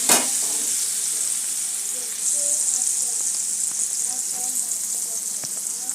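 Chicken pieces fry in a pan with a steady, bright sizzle that carries through the whole stretch, faint pops and crackles scattered across it.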